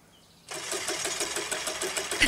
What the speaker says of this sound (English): I think there's something wrong with the engine, Mr. H.